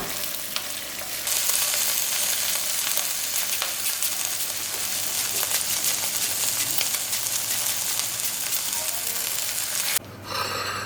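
Canadian bacon and protein bread fry in butter in a pan, a loud, steady close-up sizzle that holds evenly throughout before a brief clatter near the end.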